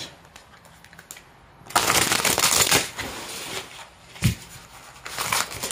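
Tarot cards are shuffled by hand in a close, dry papery riffling that comes in uneven bursts, with quieter pauses between handlings and no talk over it.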